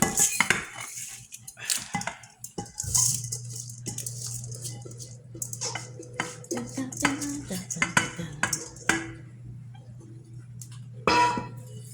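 Rice dumped into a bowl while making chicken and rice, an opening rattle and clatter, then a steady low hum with intermittent clinks and scrapes of dishes and utensils.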